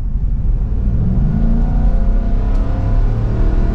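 The gas Godzilla engine of a 2023 Ford F250 Tremor revs up, giving a steady, loud, deep exhaust rumble that builds and holds close by with no talking over it.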